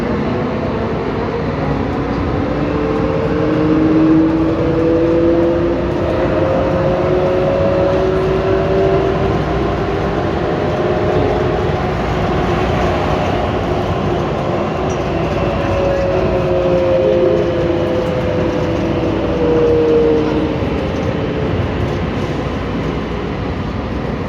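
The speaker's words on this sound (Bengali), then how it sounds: "এখন আমরা ট্রেনে ভ্রমণ করে চলে যাচ্ছি সৌদি এয়ারলাইন্সে" A continuous rumble of a passenger train in motion, heard from inside a carriage on an airport rail link in Saudi Arabia, with steady wheel noise and faint rising and falling tones, no speech.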